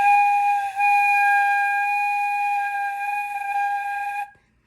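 A flute holds one long, steady note for about four seconds, loud and close, with a bright, even tone and a few clear overtones. No one speaks, and the note stops abruptly into silence.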